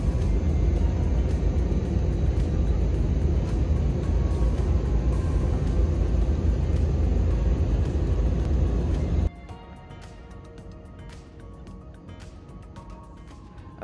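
Iberia Express airliner cruising near the southern coast of England, with a loud, steady broadband cabin roar that drops abruptly to a quieter hum partway through.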